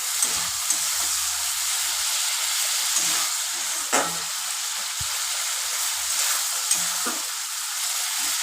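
Spice paste fries in oil for a parshe fish curry, giving a steady sizzle broken by occasional scrapes and taps of a spoon stirring the pan.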